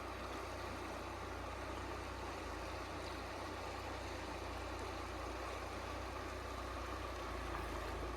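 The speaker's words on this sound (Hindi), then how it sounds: "तो मैंने सोचा आप देखिए सुंदर आवाज़ नर्मदा मैया के जल की, आप भी सुनिए।" Fast-flowing water of the Narmada river at Sankal Ghat, a steady broadband rush with a constant low rumble, unbroken and moderately loud throughout with no voices.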